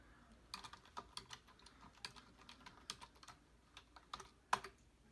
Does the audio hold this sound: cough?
no